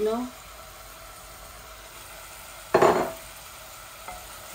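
Fish pieces, salmon head among them, drop into a pan already holding a large tomato and five olives, giving one short loud splash-and-sizzle burst in the middle, with a faint clink later and a low background hiss.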